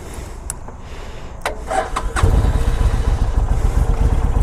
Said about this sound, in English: Fires up good from a cold start.